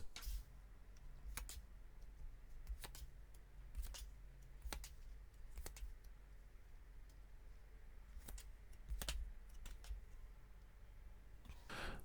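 Tarot cards being drawn from a deck produce sharp, quiet clicks and snaps that come irregularly across about twelve seconds over a faint steady hiss.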